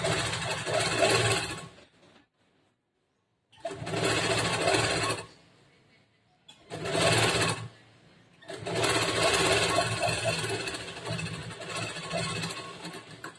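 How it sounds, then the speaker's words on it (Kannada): A sewing machine runs double stitches through a princess-cut, boat-neck blouse's lining and main cloth, in four loud, steady whirring bursts separated by short pauses. "ಇದನ್ನ ಮೇಲೆ ಇನ್ನೊಂದು ಸ್ಟಿಚ್ ಮಾಡ್ಕೊಡ್ರಿ. ಎರಡು ಡಬಲ್ ಸ್ಟಿಚ್ ಮಾಡಿ"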